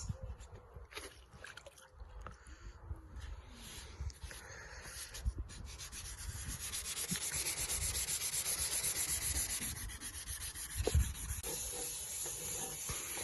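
A yellowed Ford Focus mk2 headlight is sanded by hand, giving a continuous raspy back-and-forth rubbing that grows steadier and louder over time, with faint talk in the background.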